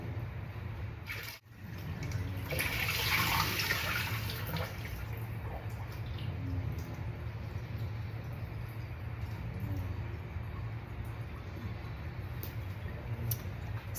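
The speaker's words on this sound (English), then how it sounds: "I'm going to use my strainer like this, put it over the sink and strain out the water." Water strained through a kitchen strainer into a sink while prepping taco salad vegetables, a steady broadband splash running the whole time with a brief gap near the start and a louder pour early on.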